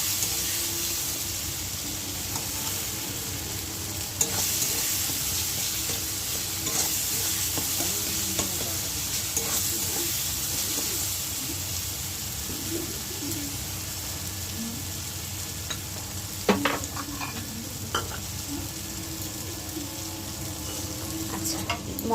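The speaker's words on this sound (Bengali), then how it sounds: "এই মশলাটাকে ভালো করে কষছি।" Spice paste is stirred and fried in a pan, a soft continuous sizzle with scraping spoon strokes and a few louder clatters near the middle, with no one speaking.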